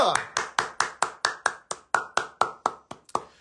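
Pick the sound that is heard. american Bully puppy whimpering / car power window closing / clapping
clapping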